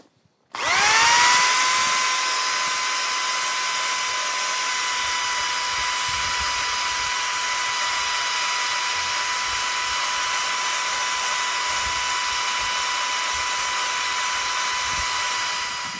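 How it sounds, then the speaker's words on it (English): A power drill fitted with a carbide die grinder spins up and grinds a pipe steadily, a loud high whine holding constant for a long stretch. "we're going to just put a plain old carbide die grinder in the drill"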